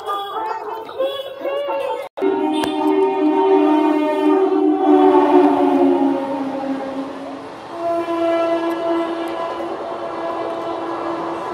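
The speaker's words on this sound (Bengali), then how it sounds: "আবার 3 নম্বর দিয়ে ট্রেন যাবে।" A train passes through a busy railway station, its horn blaring in long sustained tones over the rumble of the carriages, with people talking nearby.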